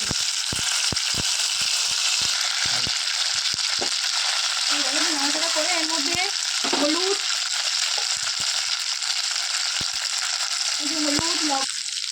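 Banana flower curry frying in a pan with cumin, ginger and green chilli, a steady loud sizzle with scattered stirring clicks, a voice speaking over it in places.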